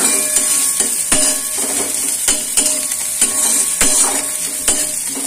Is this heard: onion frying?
yes